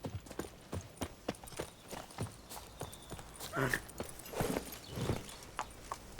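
Horse hooves clip-clop at a steady walking pace in The Witcher 3, a run of evenly spaced, crisp hoofbeats with some brief louder rustles and knocks in between.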